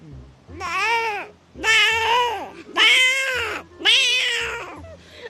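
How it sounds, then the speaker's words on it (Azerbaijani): A hungry house cat meows insistently for food, four long, loud, wailing meows close by, each separated by a short pause. "çox belə dəhşət yemək axtaran pişik səsi"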